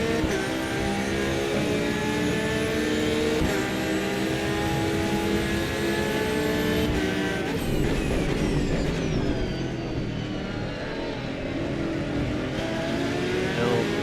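Ford Mustang race car engine in Assetto Corsa EVO drones loud and continuous throughout, its pitch rising and falling with gear changes and throttle lifts, with no talk over it.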